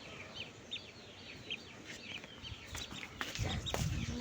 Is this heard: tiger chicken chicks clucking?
yes